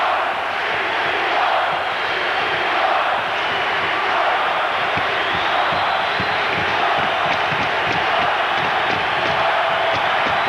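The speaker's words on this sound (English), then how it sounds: "Listen to this place. They're going bonkers." A packed hockey arena crowd at a Blackhawks versus Red Wings game roars and yells continuously, a dense, loud, sustained wall of cheering with no break throughout.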